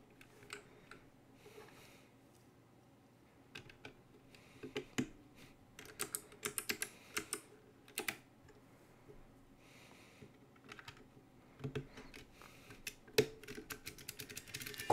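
Someone types on a custom mechanical keyboard with red switches, giving sparse, uneven bursts of soft clicks and clacks with pauses between, fairly quiet and close.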